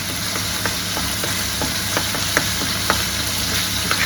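Mutton liver fry sizzles in a pan while a spoon stirs it with spices, giving a steady frying hiss punctuated by regular scraping clicks.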